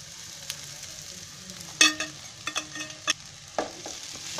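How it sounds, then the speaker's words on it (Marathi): Poha flakes tipped into a hot pan of potato and spices for batata poha and stirred, giving soft scraping stirs and a light sizzle with a few sharper clinks, close and fairly quiet. "आता त्याच्यामध्ये पोहे टाकते."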